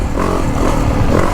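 A 2023 Yamaha YZ450F dirt bike engine runs loud and close on a woods trail, a dense continuous roar with a rough low-end rumble and slight variations in revs.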